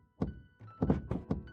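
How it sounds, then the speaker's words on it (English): A run of heavy, dull thumps lands in an uneven rhythm, about five close, booming knocks echoing through a ballroom, with no voices. "A startled shriek escaped the crowd as continuous thumping sound vibrated through the ballroom."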